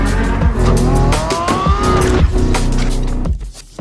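Lamborghini Revuelto V12 hybrid supercar engine, loud and sustained with a rising, revving tone over nearly four seconds, close by, tailing off briefly at the end.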